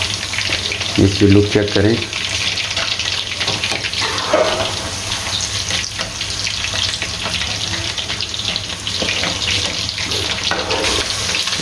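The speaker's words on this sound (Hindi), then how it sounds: "तो ये देखें माशाल्लाह कैसा ज़बरदस्त ये फ्राई हो रहा है" Chicken frying in hot oil over a high flame gives off a loud, steady crackling sizzle, continuous throughout, with brief speech in the middle.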